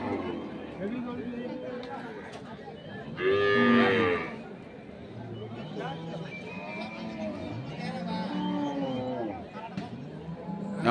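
A dairy cow at a busy rural cattle market trading Sahiwal, Sindhi and local breeds lets out a loud, drawn-out moo close by, while people chatter and bargain around it throughout.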